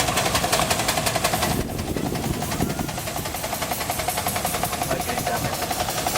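A miniature model steam traction engine runs with a fast, even chuffing beat that stays steady throughout, loud and close, with a slight shift in tone partway through.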